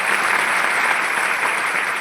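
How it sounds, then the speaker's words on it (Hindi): Steady audience applause at an event in Bhagalpur, Bihar, a dense, even clatter of many hands clapping throughout with no voices over it. "ताली बजाओ बढ़िया से।"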